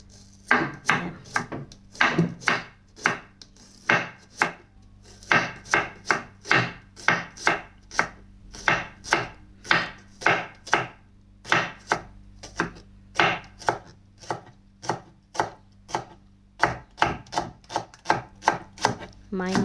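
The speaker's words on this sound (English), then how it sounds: "And then I start to slice my onion" Steady rapid chopping of an onion with a knife on a wooden cutting board, dozens of crisp close knocks in an even rhythm with brief pauses, no talking, in a kitchen while cooking garden eggs.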